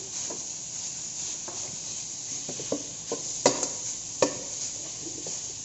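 Pork sizzles softly in a hot pan, with a few sharp clacks and scrapes of a utensil stirring against the metal.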